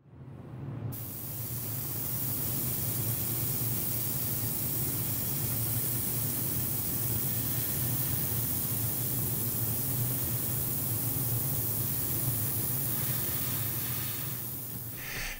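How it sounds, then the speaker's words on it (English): Steady hissing spray of an airbrush painting a model ship, continuous and close for the whole stretch, with a brief click at the start. "Now you're going to be seeing the spraying here pretty much in real time."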